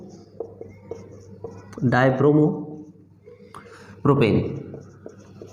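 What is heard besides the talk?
writing chemistry on a board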